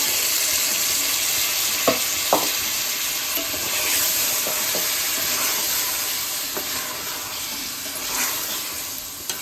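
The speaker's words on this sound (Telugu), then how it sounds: "వేగుతున్నాయి ఆనియన్స్" Onions sizzle and crackle steadily in hot oil while cooking chicken biryani, a continuous frying hiss with occasional stirring clicks.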